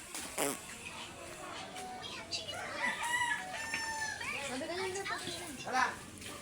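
A rooster crows and chickens cluck amid lively background chatter and children's voices, moderately close.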